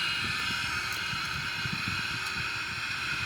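Boeing 777-300ER jet engines spooled up to maximum takeoff thrust in a flight simulator, a steady, loud broadband roar with a constant hum that holds evenly throughout without any talk.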